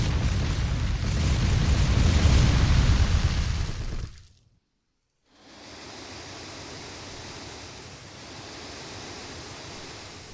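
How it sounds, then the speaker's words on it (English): Rocket from a Roblox rocket launcher flying through the air: a loud, broad rushing roar that cuts out abruptly, falls silent for about a second, then resumes as a steadier, quieter whoosh. "With some nice rockets going up"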